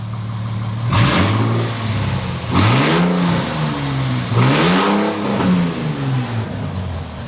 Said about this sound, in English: We're going to give it 1 or 2 revs